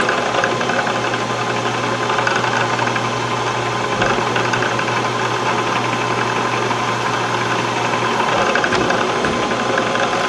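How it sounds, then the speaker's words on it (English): A CNC machine spot-drills a six-hole bolt circle in a toolroom, a steady loud mechanical drone with constant motor hum and faint periodic knocking that runs unbroken throughout. "Spot drilling the six-hole bolt circle."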